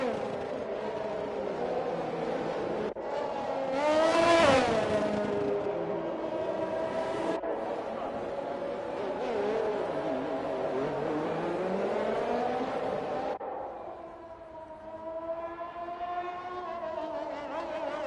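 Race car engines in a sim racing game whine and surge on a formation lap at Baku, with pitch sweeping up and down as cars weave, one passing loudly midway, steady and close.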